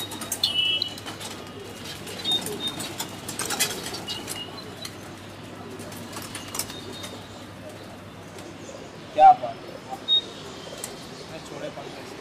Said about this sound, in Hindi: ये कबूतर देखिए आप,